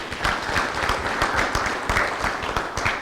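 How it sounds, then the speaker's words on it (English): An audience at the opening session of a study validation event applauds its guests, producing a sustained, dense patter of many hands clapping at a steady level for about three seconds. "A big round of applause for our guests."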